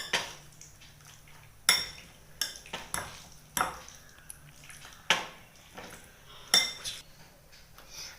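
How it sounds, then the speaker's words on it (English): A spoon mixes herbs with tomato ketchup in a bowl, giving sharp clinks and scrapes against the dish in an irregular rhythm, close and clear, with no voices. "Now I am going to mix it well."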